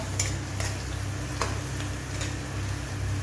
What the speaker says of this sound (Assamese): এই ৰঙচুৱাকৈ পিঁয়াজখিনি ভাজি আছোঁ।